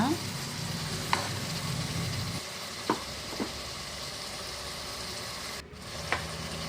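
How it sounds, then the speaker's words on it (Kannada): Vegetables and greens frying in a pan for vegetable bath, with a continuous sizzle and several sharp scrapes and clinks of a spatula stirring at irregular intervals. "ತರಕಾರಿ ಎಲ್ಲ ಫ್ರೈ ಆಗಿದೆ ಸೊಪ್ಪೆಲ್ಲ ಹಾಕೊಂಡು ಫ್ರೈ ಮಾಡ್ಕೊಳ್ಳೋಣ"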